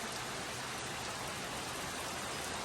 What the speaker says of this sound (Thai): ฝนแรงมากค่ะ